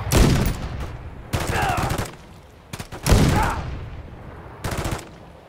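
Gunfire in the 2023 video game Call of Duty: Modern Warfare 3 comes in loud, close bursts of rapid automatic shots separated by short pauses.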